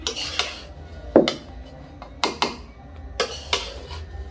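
Spatula scraping and knocking against a metal pot while fried rice is stirred, sharp clanks arriving in irregular bursts close up against a quiet background.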